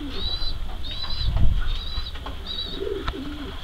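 Racing pigeons coo softly in a loft, a low steady murmuring with faint higher chirps drifting through, moderately close and with no one speaking.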